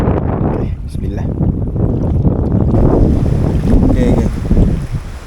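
Strong outdoor wind blusters steadily near a fishing kayak on open water by a bridge, rumbling broadband across the whole clip, with someone speaking briefly over it.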